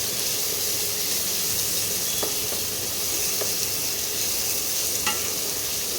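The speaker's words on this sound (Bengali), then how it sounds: "এই পেঁয়াজটা একটু ভাজা ভাজা করতে হবে" Chopped onion frying in a pan, a dense continuous close sizzle with a few light stirring taps, no voices.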